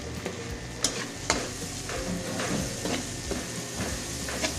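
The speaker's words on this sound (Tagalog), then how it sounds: "Lalagay na po rin natin ang ating sibuyas" Onions drop into a hot pan and sizzle steadily while being stirred, with a few sharp scraping clicks of the utensil over a constant frying hiss, close and moderately loud with no talking.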